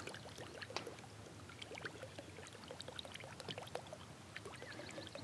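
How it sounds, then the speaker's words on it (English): Soft watery gurgling and small splashes from a frog fishing lure worked across the water, steady and close, with no voices. "Makes a nice little gurgling sound"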